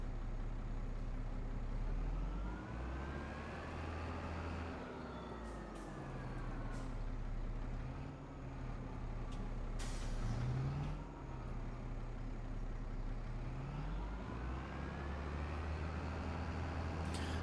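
Two combine harvesters working a field in Farming Simulator 25, a loud continuous engine drone with rising and falling pitch as throttle shifts, steady throughout with occasional hiss and clatter.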